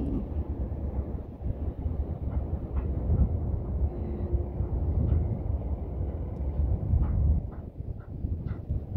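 Steady low rumbling wind buffeting the microphone outdoors along a sunny seaside, a continuous dull roar with faint distant clicks and rattles.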